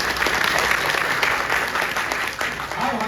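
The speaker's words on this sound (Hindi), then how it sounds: "कोई जोरदार ताली बजाइए।" An audience at an outdoor lecture on natural farming breaks into loud, dense, continuous clapping that lasts throughout, with faint voices mixed in.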